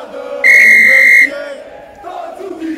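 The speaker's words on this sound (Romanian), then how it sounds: "Fluier de start aici" In the FIFA 21 video game, a referee's kick-off whistle for a UTA Arad versus Astra match sounds one loud, steady blast of nearly a second over a constant stadium crowd roar.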